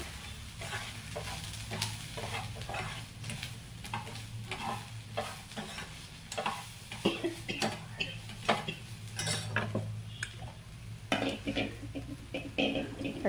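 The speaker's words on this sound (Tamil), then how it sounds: "மல்லித்தூள், அப்புறம் ஜீரகத்தூள் எல்லாம் போட்டு மிக்ஸ் பண்ணிக்கிட்டு" Coriander and cumin powder stirred into a soya chunk masala in a pan, a steady sizzle under repeated scraping and spoon taps, growing busier and more rhythmic toward the end, close by, no voices.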